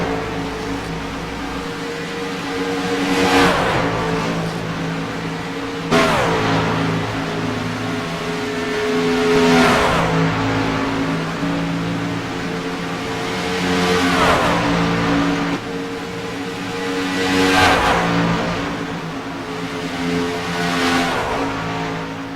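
Race car engine revving hard in repeated rising surges roughly every four seconds, loud and close, each pass swelling and fading while other engines drone steadily underneath during a race.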